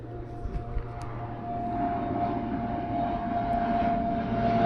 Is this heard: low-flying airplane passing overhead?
yes